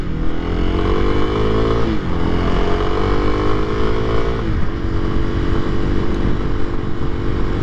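A 2023 Kawasaki KLX300SM motorcycle engine drones steadily while riding, its pitch climbing through gears with two audible shifts, loud and close throughout.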